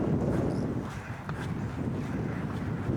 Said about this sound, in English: The wind's definitely blowy.